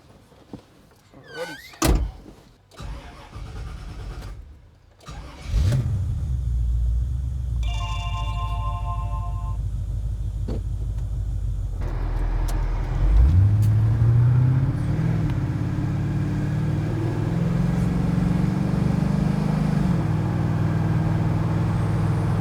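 An HQ Holden panel van fitted with an LS V8 engine thumps shut, cranks and starts, then settles into a steady, smooth engine drone as it drives off and cruises, with a brief rev rise partway through.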